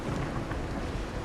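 Steady rain with low rumbling thunder in a Wuthering Waves game scene, a dense, even wash of noise with a deep roll underneath, brief and uninterrupted.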